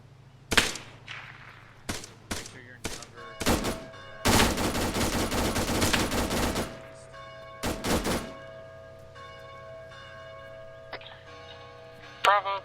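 An M249 machine gun fires during military escort training in short bursts and single shots, then one long sustained burst around the middle, close and sharp against a humming background.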